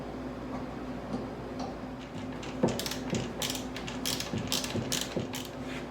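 A ratchet drives a screw to mount a sideboard top, giving close, quiet clicking bursts in short uneven strokes with brief pauses between them.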